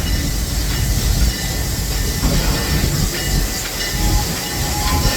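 A Serengeti Express train runs steadily through Busch Gardens Tampa, its wheels and cars giving off a continuous broadband rumble and hiss with faint squeals and rail clatter, close by and even in level throughout.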